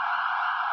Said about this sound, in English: Yeah, it's ambulance.